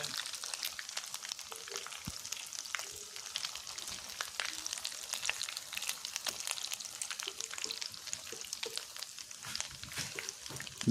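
Potato kebabs fry in a large pan as they are turned one by one, giving a steady, soft sizzle throughout with faint crackling pops and occasional light taps.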